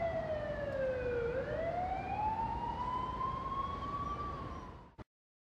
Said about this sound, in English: police car, or fire truck is behind you with their lights and siren activated, clear the intersection